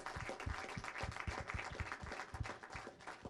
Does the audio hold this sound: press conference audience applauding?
yes